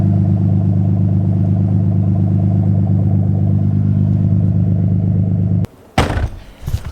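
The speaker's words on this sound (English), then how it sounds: "This idle straight up sounds like a mini GTR." Twin-turbo Nissan 300ZX with a new full catback exhaust idling, a loud steady burbling rumble for several seconds, then a brief cut-off followed by sharp bursts of engine noise near the end.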